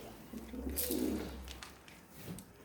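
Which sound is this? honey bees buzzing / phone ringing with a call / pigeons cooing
pigeons cooing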